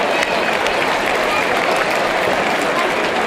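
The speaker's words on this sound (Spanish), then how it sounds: "Un fortísimo aplauso tamén para ele" An audience applauds at an awards ceremony for a rondalla folk-music competition in Vigo's IFEVI exhibition hall, a loud, dense, continuous roar of clapping filling the whole short stretch.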